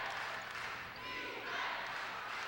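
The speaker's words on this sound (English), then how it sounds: "the crowd gets behind the Hurricanes here at the Scotiabank Center" Basketball crowd roaring steadily for the Halifax Hurricanes at the Scotiabank Centre during a tight late fourth quarter of an NBL Canada game against the Island Storm; a dense, sustained arena din that swells toward the end.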